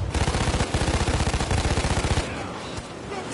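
Rapid automatic gunfire from the video game Payday 2, a loud close burst of evenly spaced shots lasting about two seconds before cutting to a quieter background.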